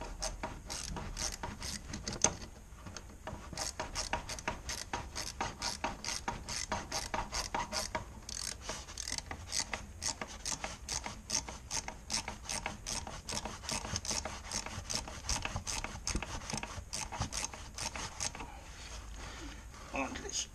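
A ratchet tightens bolts during a brake pad change on a Can-Am F3-S three-wheeler, producing a dense, continuous run of rapid mechanical clicks for about twenty seconds, close and steady, with faint voices in the background.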